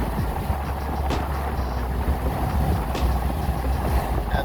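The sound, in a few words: pickup truck engine cruising in sixth gear at 70 mph, 2,500 RPM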